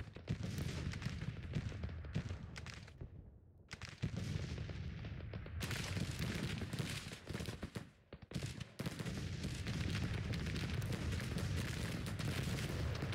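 Dense, continuous musket volleys and booming artillery fire from a night attack in the Civil War strategy game Grand Tactician, rolling crackle with heavy low rumbles and brief lulls, loud throughout with no talking.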